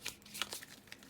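A deck of tarot cards being shuffled by hand, giving a few quiet, brief papery rustles and flutters spaced unevenly across a short, hushed moment without speech.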